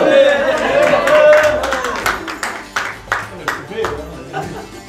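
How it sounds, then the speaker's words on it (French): Crowd at a restaurant awards evening in Lyon, clapping and shouting together, with sharp bursts of applause and cheers over a steady murmur, voices talking through it before the claps grow more distinct toward the end. "On va vous applaudir tous ensemble, vous criez aussi, allez, criez"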